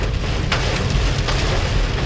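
A heavy rainstorm in Fort Worth, Texas pours down in a loud, dense roar with occasional sharper bursts, likely heard close by from a sheltered spot.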